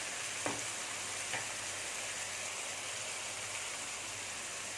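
Mushrooms sizzle in a pan for a mushroom masala, a steady broadband frying hiss with a couple of faint stirring knocks near the start, close and continuous with no talking.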